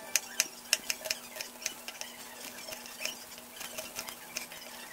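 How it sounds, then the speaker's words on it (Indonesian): Shallots being sliced with a knife for a sweet soy dipping sauce: a steady run of crisp, close chopping taps, quick at first, then slightly sparser, with no talking. "Iris-iris bawang merah."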